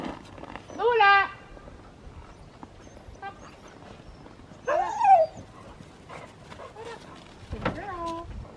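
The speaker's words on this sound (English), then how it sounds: "Happy dog!" A sled dog outdoors on a mountain trip gives two bursts of high, whining whimpers, then a softer yelp near the end, with quiet gaps between and faint background noise.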